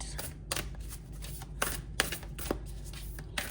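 A deck of cards is shuffled and cut close by, with quick papery riffles and crisp slaps arriving in uneven bursts, and no talking.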